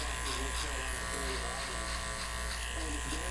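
An electric hair clipper buzzes continuously and close up during a self-cut bald fade, a steady droning hum running under a voice as he talks throughout.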